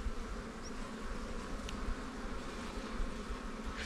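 Honey bees from a swarming hive at a highland village apiary hum in a steady, dense drone that fills the whole stretch, with no voices over it.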